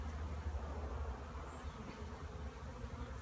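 Honeybees buzz steadily and softly during a hive check, with a continuous low drone of many wings that stays constant and fairly faint throughout.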